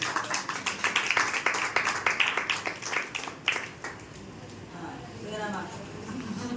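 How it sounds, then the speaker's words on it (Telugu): A group claps hands together after a New Year cake cutting, giving a few seconds of close, brisk, irregular clapping that fades out, with voices talking under and after it. "చప్పట్లు కొట్టండి ఒకసారి."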